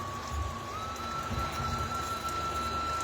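Heavy rain falls steadily and continuously with a dense, even wash of drops on surfaces, close and loud throughout with no voices.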